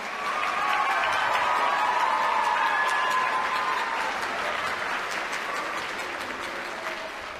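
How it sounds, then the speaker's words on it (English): A school concert audience applauds a middle school jazz band after its set, with dense, sustained clapping from a large crowd indoors that fades slightly toward the end. "Everybody, let's give them another round of applause."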